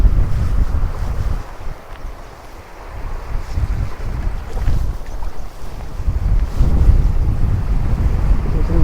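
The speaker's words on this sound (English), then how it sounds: "Downstream wind here" Downstream wind blowing along a river during fly fishing, a steady loud roar of wind buffeting the microphone, with water washing underneath and small surges and dips in strength throughout.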